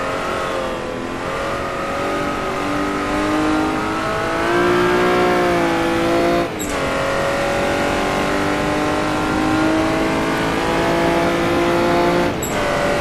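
A Jaguar D-type race car at Goodwood, its engine roaring loudly and steadily as it accelerates, the pitch climbing through the gears with two brief dips at gear changes, heard close up from the cockpit with no talk.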